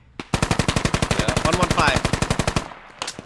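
Sustained automatic gunfire rattles in a rapid, evenly spaced burst of roughly two dozen loud close shots in the military shooter game Squad, with a brief voice calling out at the start.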